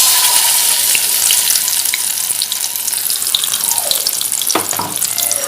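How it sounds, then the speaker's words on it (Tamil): Red chilli paste frying in oil in a pan, a loud, continuous hiss and sizzle that stays fairly steady, with a few faint clinks and a short swishing stir near the end. "ஒரு பேனில் ஆயில் ஊற்றிட்டு, ஆயில் ஊற்றினதுக்கப்புறம் இதை இதில் போட்டுடலாம்."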